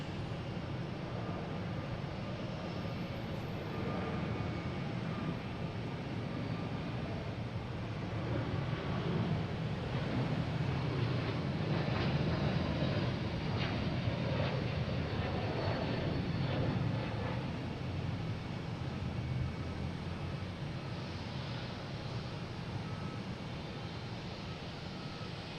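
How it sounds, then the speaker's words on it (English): A United Airbus A321neo takes off for Denver from Boston Logan, its engine roar faint and distant, swelling slightly mid-way and holding steady. "we got United taking off heading to Denver in A321neo,"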